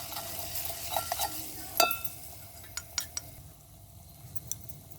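Brinjal curry with turmeric stirred in a frying pan, a spoon scraping and clinking against the metal over a steady sizzle, with several sharp taps near the middle and a few lighter clinks toward the end.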